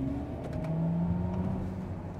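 A Mercedes EQS electric car in comfort mode plays its artificial driving sound, a smooth synthetic hum with rising tonal whine, steady and moderately loud from inside the cabin.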